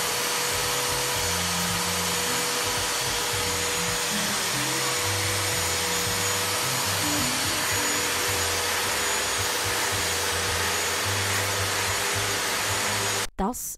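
A vacuum cleaner runs continuously near a deaf cat, a loud steady whooshing drone with shifting low motor tones throughout, cutting off abruptly at the very end.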